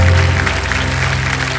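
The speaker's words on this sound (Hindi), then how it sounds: "तालियां बज जाएं इनके लिए।" Studio audience applause on a TV quiz show, a loud, dense, steady wash of clapping filling the whole stretch with no talk over it.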